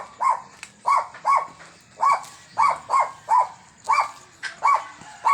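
A dog barks steadily in a rhythmic series of about a dozen fairly close, evenly spaced barks, outdoors on a residential street in Santa Ana during a morning walk with a stroke patient.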